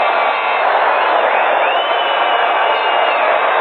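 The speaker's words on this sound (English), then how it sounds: "Sellout crowd here, and they are still here." Sellout stadium crowd at an Oakland Raiders football game: a steady, dense roar of cheering, distant and band-limited like an old broadcast recording, with no distinct talk.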